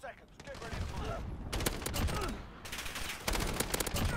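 Gunfire in the video game Call of Duty Modern Warfare, rapid automatic bursts and volleys of shots in quick clusters, loud and close, with brief pauses between strings of fire.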